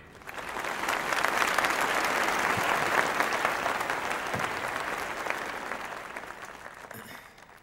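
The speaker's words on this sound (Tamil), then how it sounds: "அப்போட பேருக்கு நீங்கள் கைதட்டுறப்ப" An audience bursts into applause for an invited speaker at an event, a dense sustained clapping that swells, holds for several seconds, then gradually tapers off.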